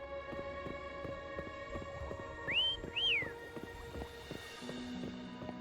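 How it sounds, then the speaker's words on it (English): A character in Wuthering Waves whistles two rising-falling notes to call Foam, heard over steady rhythmic game music and a clip-clop of hooves. "Why don't you call Foam over? Try whistling."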